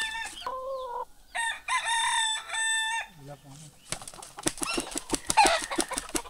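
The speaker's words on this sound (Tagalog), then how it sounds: "Ano to, manok? Manok pala to?" A rooster crows close by in several drawn-out calls, followed by rapid clucking and wing flapping.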